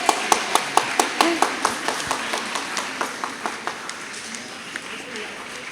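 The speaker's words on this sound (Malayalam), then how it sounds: "എല്ലാവരും വലിയൊരു കയ്യടി കൊടുത്തേ" Audience applause for the best orator prize winner at a school fest prize distribution, opening with loud sharp claps that settle into steady clapping and gradually thin out and fade.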